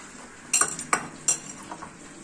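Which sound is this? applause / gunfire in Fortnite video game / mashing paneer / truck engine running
mashing paneer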